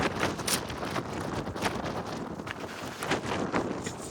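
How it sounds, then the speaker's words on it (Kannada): Strong wind gusts across a hilltop viewpoint on an off-road trip in Maharashtra, roaring continuously against the microphone in loud, buffeting waves. "ಹುಷಾರು, ಗಾಳಿ ಇದೆ"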